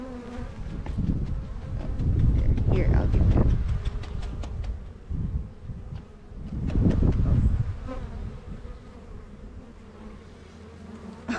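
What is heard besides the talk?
honey bees buzzing, male drone bee held in hand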